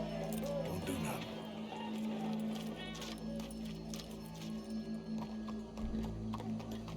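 Horse hooves clip-clopping in the video game Red Dead Redemption 2, a steady rhythmic clatter under constant background ambience and music, moderately quiet throughout.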